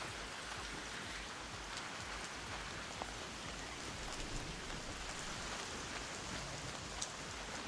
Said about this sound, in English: the mix of the cicadas and the rain is pissing me off